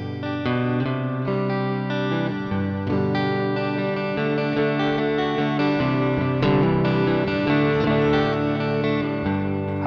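Electric guitar sweep-picking run through a Tech 21 RK5 Flyrig with echo and pushed gain, fast rolling arpeggiated notes in a continuous, evenly loud, slightly distorted flow with trailing ambience.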